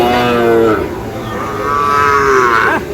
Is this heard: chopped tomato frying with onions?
no